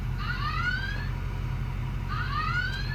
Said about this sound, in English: Little alarm going off there